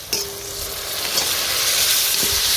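Cleaned mud crab pieces dropped into a pan of onions and tomatoes set off a steady close sizzle and frying hiss, with a couple of brief stirring scrapes.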